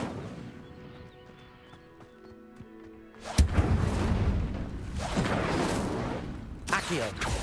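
Incendio fire spell cast in the Hogwarts Legacy video game: a low rumbling whoosh bursts in loudly and swells into roaring, crackling flame, with a second flare near the end, after a quieter stretch of ringing tones.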